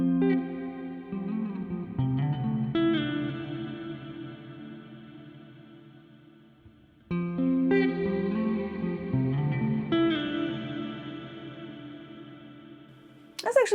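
Two sustained guitar chords through a stereo shimmer reverb pedal swell into a shimmering, octave-high reverb wash that lingers and slowly decays, the second phrase repeating the first.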